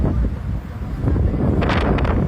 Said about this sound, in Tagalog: Kasi yung hangin papunta sa likod ko